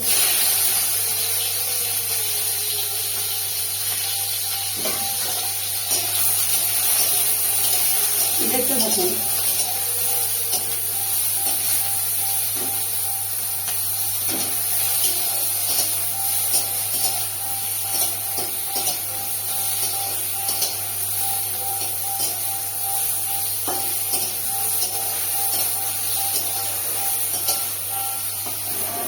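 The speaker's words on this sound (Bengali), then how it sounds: "এবার এই কড়াইতে যে তেলটা দিয়েছি তার মধ্যে এই সব মশলাগুলো আমি একসাথে দিয়ে দেবো।" Spices hiss and sizzle in hot oil in a wok alongside tomato for a Bombay duck fish curry, a steady close frying crackle running underneath a voice talking.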